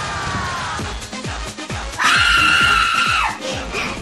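A woman lets out a loud, sustained scream lasting over a second, sharp and close, rising over a rhythmic background of repeated thumping beats.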